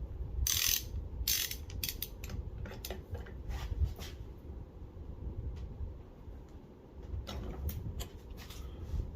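Knipex 8605180 wrench pliers ratcheting tight on a twisting bench vise, a run of sharp metallic clicks and creaks in bursts, close and fairly loud over a low rumbling background, pausing midway before another cluster of clicks.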